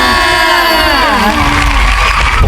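A loud crowd at a pop group's song promotion event cheers and screams with high-pitched excited voices blending together in a sustained roar, with no distinct clapping standing out.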